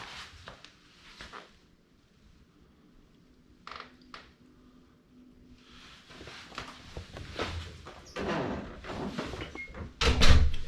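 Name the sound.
door being shut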